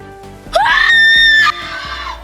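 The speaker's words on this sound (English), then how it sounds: "A scream instantly pierced through the entire street" A woman lets out a loud, shrill scream that rises sharply and holds for about a second before cutting off.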